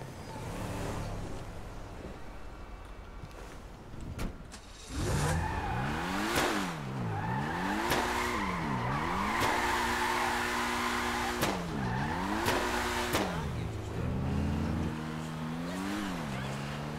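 A Lamborghini revving and skidding in the FiveM driving game, with repeated rising and falling engine sweeps through gear changes and tire squeals, loud and steady over a continuous roar after an initial quieter stretch.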